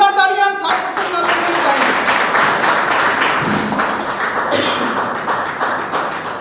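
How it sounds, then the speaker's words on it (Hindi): Loud audience applause and clapping at a Modicare meetup in Kaimganj, starting abruptly and filling the hall steadily, with some voices mixed in. "एक बार जोरदार तालियां"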